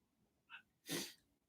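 A single sharp sneeze, preceded by a brief quick intake of breath, close and fairly loud in an otherwise quiet space.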